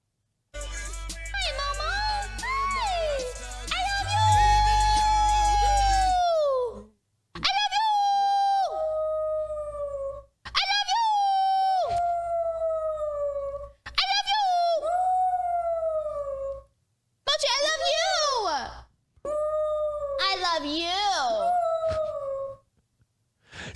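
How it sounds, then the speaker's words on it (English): A dog howls in long, wavering, close-up wails, several drawn-out howls in a row separated by short pauses, with a low steady hum running underneath the first one. "She's having a cute moment with her dog."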